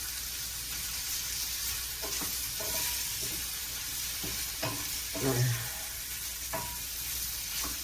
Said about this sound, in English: Get this sausage browned up.